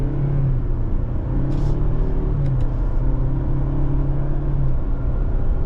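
A 2025 Ford Ranger Lariat pickup with a 2.3 EcoBoost turbocharged engine and 10-speed automatic pulls away, a loud steady engine rumble from inside the cabin with shifting tones as it accelerates.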